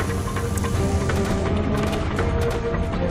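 Rifle gunfire in the video game Resident Evil Operation Raccoon City, heard as repeated sharp shots over a steady, dense game soundscape.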